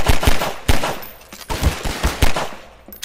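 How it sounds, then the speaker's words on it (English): Enemy gunfire in Garry's Mod on the Unusual Adventure 2 map: loud, close bursts of shots in an uneven rhythm, sharp cracks clustered into several volleys across a few seconds, with no talking. "there's two of them firing at me"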